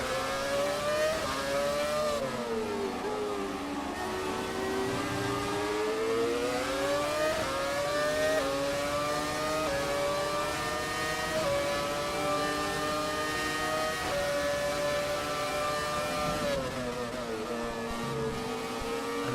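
Formula 1 cars in the F1 2017 racing game at the Canadian circuit, including a 1995 Ferrari: a loud, continuous high-pitched engine whine rising and falling through gear changes, sustained throughout with no talk.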